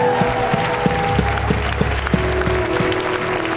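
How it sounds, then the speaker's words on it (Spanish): Church congregation applauding during a Sunday service, a steady sustained patter of clapping with low music or hum underneath, no talk. "Ahora sí demos un aplauso grande al Señor esta tarde."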